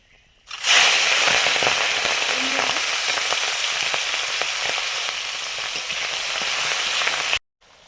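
Five-spice, dried chilli and bay leaf hit hot oil for pumpkin and Malabar spinach cooking, bursting into a loud, steady sizzle with crackles that runs for several seconds, then cuts off abruptly.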